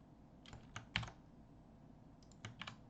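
Keys on a calculator keypad are tapped in short, quick clusters of soft clicks, close and fairly quiet, with gaps between bursts.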